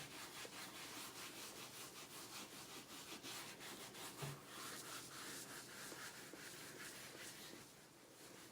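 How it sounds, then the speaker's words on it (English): Rhythmic rubbing strokes on a leather bag being cleaned, a steady close scrubbing and brushing texture with no voices. "And gently rub it on the leather."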